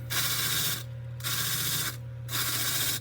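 A wire wheel brushes over carved wooden ears, giving three loud, steady bursts of bristly scraping separated by short pauses, with a constant motor hum running underneath throughout.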